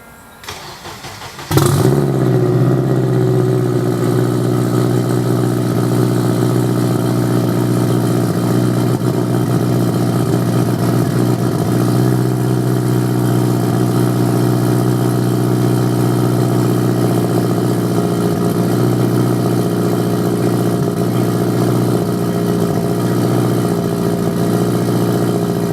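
A turbocharged 2011 Honda Civic Si cranks and fires after a brief quiet moment on a cold-ish start, then settles into a loud, steady idle that drones on close by without change, with no voices.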